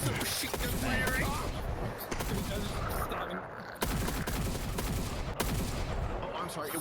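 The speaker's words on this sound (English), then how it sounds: "Submachine gun firing!" Submachine gun fire rings out in a video game in rapid, continuous bursts that fill the mix, broken by a few sharp cracks and brief pauses.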